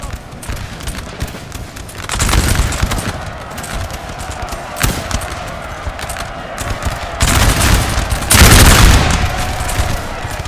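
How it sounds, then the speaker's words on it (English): Musket volleys in Napoleon Total War at the 1809 Battle of Stralsund, a dense rolling crackle of massed gunfire surging in waves, loud and continuous. "Nice volleys there, doing a bit of damage to those Danish dragoons"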